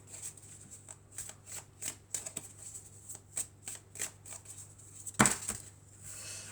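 Oracle cards being shuffled by hand, a series of soft rhythmic riffling bursts fairly close with one sharper slap near the end, quiet throughout and without talk.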